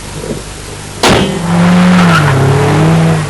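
A Toyota Camry with a four-cylinder multi-valve engine, 1991 model era, drives past with a sharp onset followed by a steady engine drone and a tonal whine, loud and close, with no talking.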